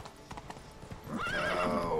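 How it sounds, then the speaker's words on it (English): A horse in The Witcher 3 clip-clops along, then lets out a loud, drawn-out whinny that fills the second half, close and prominent with no talk over it. "Good horse. Like his style, cut through the goats."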